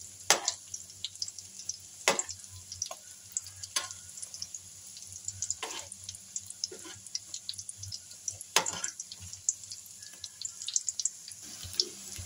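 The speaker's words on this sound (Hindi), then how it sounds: "इस तरह पलट पलट के हम चारों तरफ से कर लेंगे इसको गोल्डन ब्राउन, हल्की आंच पे" Potato chicken kebabs fry over a low flame, a quiet, crackly sizzle under frequent sharp pops and occasional utensil taps as the pieces are turned.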